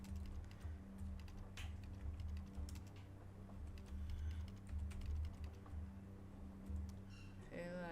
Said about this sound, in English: I'm typing it all in caps because that's how it's written